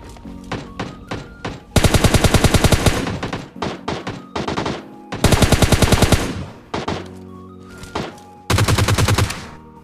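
Rapid automatic gunfire from PUBG Mobile Lite comes in loud bursts of about a second each, with clusters of single thudding shots in between, close and dense, with no talking over it.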